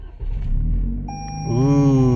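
A 2022 Toyota Corolla Apex, fitted with a new rear engine mount, starts up as heard from inside the cabin: a brief chime tone, then the engine catches and its hum rises and settles into a steady idle.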